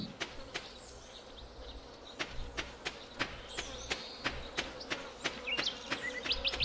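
Bees buzzing in the farming video game Stardew Valley, a steady insect drone carrying soft repeated ticks and small game sound effects, with no one talking.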